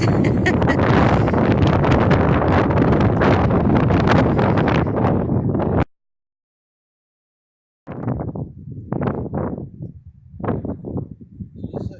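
Strong wind outdoors in Anacortes, Washington buffets the microphone in a loud, continuous roar, breaks off into silence, then returns in rougher, gusting bursts.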